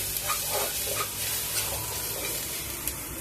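Turmeric and coriander powder fry in a pan for a beans curry, giving a steady hissing sizzle. A spoon stirs the spices and scrapes with soft, intermittent taps, close up, and there is no talking.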